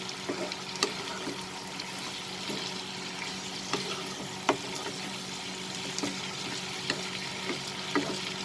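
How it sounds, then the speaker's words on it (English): Chicken and French beans sauté in a pan with a steady, even sizzle and occasional light clicks of a utensil stirring, close and continuous without talk. "we'll add and we will saute this"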